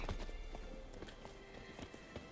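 Horse hooves clop in a steady walking rhythm inside The Witcher 3, close and moderately loud over low game ambience, with no talking.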